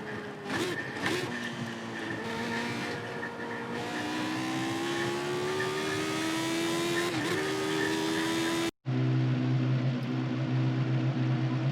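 A rally car engine in Dirt Rally 2.0, revving loudly and continuously with rising and falling pitch through gear changes, then cut off abruptly and replaced by a lower steady drone.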